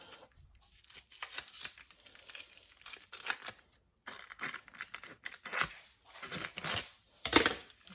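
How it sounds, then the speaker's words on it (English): Close, crinkly plastic packaging being snipped and torn with scissors, irregular bursts of cutting and crackling, with no voices. "Then I need some scissors. I'm going to take off both sides."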